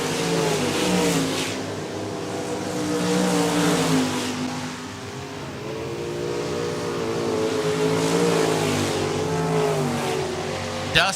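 Sportmod and RaceSaver sprint cars racing around Park Jefferson Speedway, engines droning and rising and falling steadily as several cars battle through the turns, loud and continuous with a commentator's voice faintly underneath.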